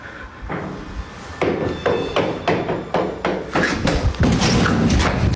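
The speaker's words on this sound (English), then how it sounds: "his camera captured the impossible sound of someone bolting down the stairs directly in front of him" Footsteps of someone running down stairs in a building, a quick series of loud close thuds in an uneven rhythm that speeds toward the end.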